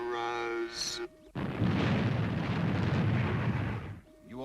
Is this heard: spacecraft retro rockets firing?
yes